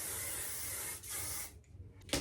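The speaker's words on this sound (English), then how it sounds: "I'm literally gonna give it a squirt of hairspray here." Hairspray aerosol can giving a short squirt onto hair, a steady close hiss for about a second and a half, then a brief second spray burst.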